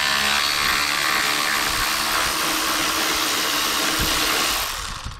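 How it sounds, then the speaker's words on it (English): A power tool fitted with a deep 10mm socket removes the battery bracket on a 2014 Infiniti Q50, giving a steady, loud whirring drone for about four and a half seconds before it winds down with a brief clack. "Deep 10mm socket to be able to get this bracket off"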